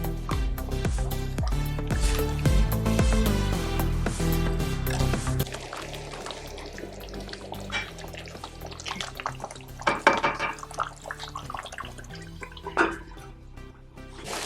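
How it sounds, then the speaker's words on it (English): Water poured into a pan of sooji halwa, splashing and sizzling at first, then quieter scraping and clinking as a spoon stirs the mixture. "Next add water. Keep stirring, then cover and let it cook for a few minutes on low heat."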